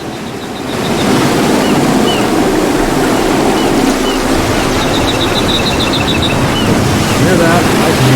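Ocean waves wash steadily as video game ambience, a continuous broadband surf that swells in after the first second and holds at an even, fairly loud level with faint high chirps on top.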